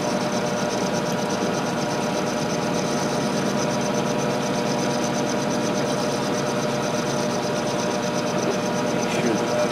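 An end mill cutting metal on a milling machine, shaping a hex on an arbor for DP20 gear cutters, producing a dense, steady grinding whir that runs unbroken at close range, with a voice talking over it.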